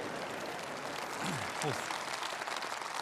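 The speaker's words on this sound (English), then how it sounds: "getting a round of applause" An audience at the Conservative Party conference applauds as the Chancellor, Philip Hammond, takes the stage, a steady crowd of clapping under a commentator's voice.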